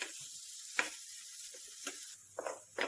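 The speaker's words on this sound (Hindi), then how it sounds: "हमने बारीक कट कर लिया है 2 प्याज को। इसको भी हम सौटे कर लेंगे" Finely chopped onions for chana masala sizzle and hiss in a pan at moderate volume, with a few soft stirring scrapes and clatters.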